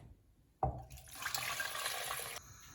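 Water poured into a pot of washed potatoes: after a soft clunk, a steady splashing gush runs close and clear for under two seconds, then stops abruptly.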